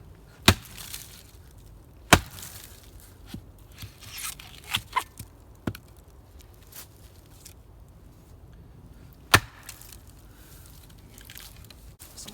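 A Pulaski axe chops into a piece of hardwood in a few sharp, isolated thwacks spaced seconds apart, with small knocks and rustles between them, quiet and close with no talking.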